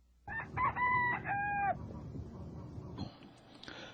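A rooster crows once, loud and clear, followed by a few softer clucks and faint farmyard noise.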